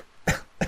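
A character in Red Dead Redemption 2 gives two short, sharp coughs in quick succession inside a cabin, fairly close and with nothing else heard.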